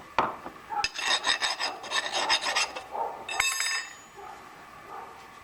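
The cut edges of a sewer pipe are deburred by hand, giving a series of rough rasping strokes in short bursts, close and fairly quiet, with a few sharp knocks between them.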